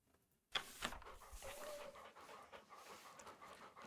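Sled dogs in a video game pant rapidly and breathily, starting suddenly after a near-silent moment, with a brief whimper-like tone amid the steady panting, fairly quiet overall.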